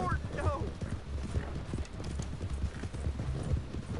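Horse hooves clip-clop in a steady, rhythmic trot in the video game Red Dead Online, close and clear against a low rumble, with faint voices in the background.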